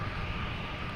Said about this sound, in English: This is flight 1398, 737-900